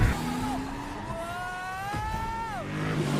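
A police car driven by Tails in the Sonic the Hedgehog 2 film roars past with a rising, sustained engine whine that sweeps up and then drops off, loud and close over busy background noise.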